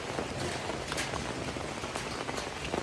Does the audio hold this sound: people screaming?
no